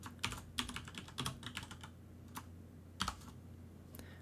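Quiet, close computer keyboard typing, with scattered individual key clicks and short bursts of taps that trail off into sparse presses.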